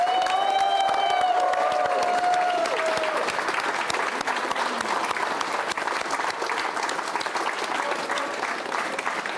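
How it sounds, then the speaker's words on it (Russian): Loud, sustained applause fills a hall as an audience claps for a football award nominee honoured for 100 goals for Spartak Moscow, with a brief whistle-like tone at the start and a few voices in the crowd. "Ваши аплодисменты"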